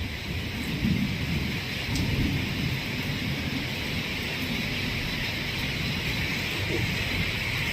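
Heavy rain pours down steadily, a dense roaring hiss with low rumbles of thunder underneath, close and loud throughout.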